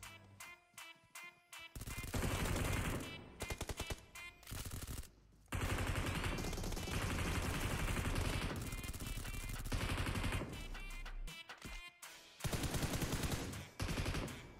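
Bursts of gunfire ring out from a hill during a battle royale video game match, with rapid automatic volleys and scattered single shots that come in loud, dense stretches broken by short pauses.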